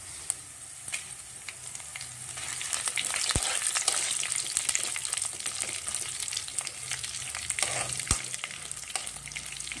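Coriander seeds, cumin, fenugreek and dried red chillies frying in hot oil while gongura pickle is prepared, heard as a close, continuous sizzle with stirring scrapes and a couple of sharp utensil knocks.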